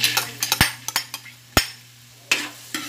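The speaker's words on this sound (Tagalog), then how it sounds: "Tapos ipiprituin lang natin yung carrots natin" Carrots fry in a pan as a utensil stirs them, giving a string of sharp scraping clinks against the pan, some spaced and some in quick bursts, over a low, steady sizzle, with no voices.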